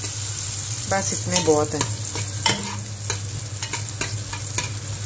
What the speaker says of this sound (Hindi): अभी मैं हलीम के लिए जो ऊपर प्याज फ्राई डालते हैं वो कर रही हूँ फ्राई